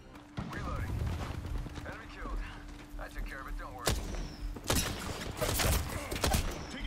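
Gunfire in the video game Apex Legends: repeated sharp shots and bursts, fairly loud, mixed with excited talk and game sounds throughout.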